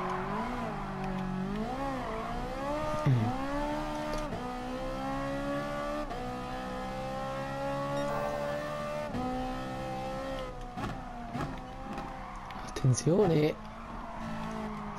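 An Enzo Ferrari in Gran Turismo Sport roars steadily throughout, its engine rising and falling as it revs, with a brief tire skid near the end. An Italian-speaking voice talks over it.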